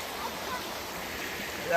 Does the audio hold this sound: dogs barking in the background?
no